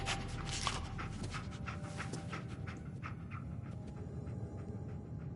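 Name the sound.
dog Dogmeat panting, from video game Fallout 4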